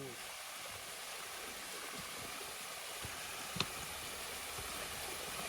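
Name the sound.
waterfall on Bartram Trail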